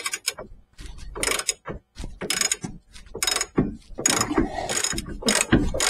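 A spanner jiggles back and forth on a seized, rusty bolt, producing close, irregular bursts of metallic clicking and scraping separated by short pauses, with no talking.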